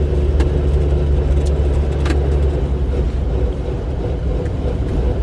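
A Jeep cruises through a small town, its engine and road noise making a steady, loud low rumble that continues throughout, with no talking.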